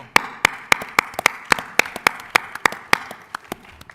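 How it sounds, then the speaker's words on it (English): A small group of panelists clapping at a conference panel, a brisk run of sharp, close hand claps that thins out and fades over a few seconds. "When you start out getting applauded by your own panelists"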